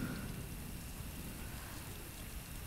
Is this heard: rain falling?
yes